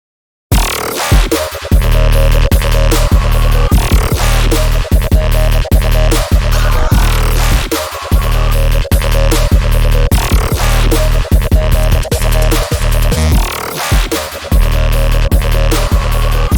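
Full EDM remix drop produced in FL Studio, with loud pounding kicks, heavy bass and dense synth layers driving in a steady rhythm throughout, punctuated by brief breaks in the beat.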